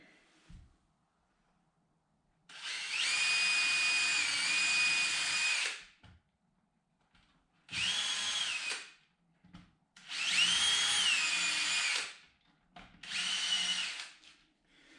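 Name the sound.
screws driven into wooden sifter frame with power drill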